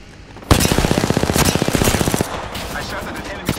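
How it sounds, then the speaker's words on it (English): Automatic gunfire in Apex Legends, a loud rapid burst of closely spaced shots lasting under two seconds, then fading game ambience and a faint later shot. "I shot at an enemy."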